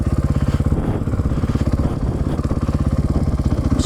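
A KTM 450 Six Days dirt bike in first gear on a wooded, abandoned ATV trail, its single-cylinder engine chugging in a fast, even pulse at low speed, close to the rider.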